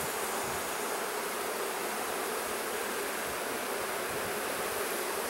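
Honeybees swarming around an open, smoked hive during a split inspection, a dense, steady hiss-like buzz filling the air without pause.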